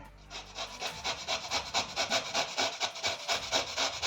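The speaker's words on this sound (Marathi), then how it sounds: "आता आपण भोपळा किसून घ्यायचा" Red pumpkin is grated by hand on a grater in quick, even, rhythmic rasping strokes, about four per second, close up with no talk.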